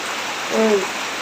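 Heavy rain falls steadily outside a house, a continuous even wash of hiss throughout, with a brief faint tonal sound near the middle.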